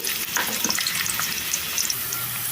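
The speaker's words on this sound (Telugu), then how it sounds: "ఇప్పుడు అదే కడాయిలో కొద్దిగా నూనె వేసుకొని ఉల్లిపాయ ముక్కలు అయితే వేస్తున్నానండి ఇవి దూరగా ఫ్రై అయిపోవాలి" Onion pieces frying in a little oil in a kadai, a loud, close, continuous crackling sizzle with light stirring scrapes throughout and no talking.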